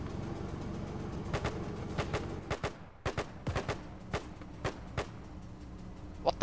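WW2 video game battle with scattered rifle and machine-gun shots cracking out one after another, some close and sharp, others farther off, over a low background rumble, with no voices.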